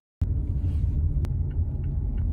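A Yosemite waterfall roars in a deep, steady rumble that starts abruptly and holds constant, with a couple of sharp clicks over the wash.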